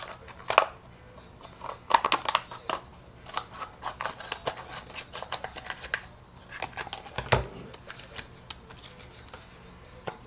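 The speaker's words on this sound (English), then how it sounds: "So using a simple Yoplait yogurt cup, you're going to cut a line straight down" Scissors snip down the side of a plastic Yoplait yogurt cup in a series of crisp, close cuts and crackles, irregular in rhythm with short pauses, no voices.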